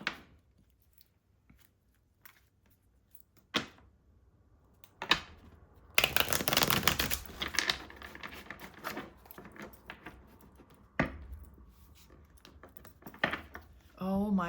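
Tarot cards being shuffled by hand, a dense burst of riffling and flicking at mid-clip between scattered soft taps and card handling, fairly close and moderately loud, with no talking.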